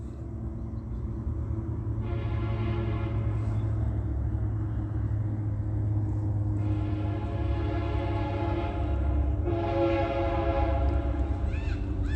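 A freight train rumbles steadily past at close range for the whole stretch, its horn sounding in three long blasts over the heavy continuous roar of wheels and cars.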